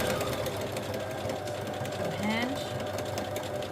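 A sewing machine back-stitches fabric scraps with a fast continuous whirring rattle, close and steady, while a person talks over it.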